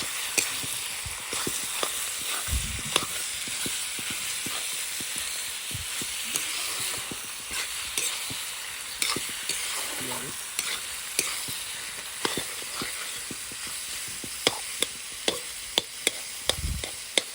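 Local village chicken curry with spices sizzles and bubbles steadily in a pan at an outdoor family picnic, with frequent sharp scraping stirs of a spoon clanking against the pot close by.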